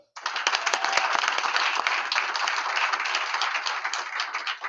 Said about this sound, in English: I will just say that we are clapping for God.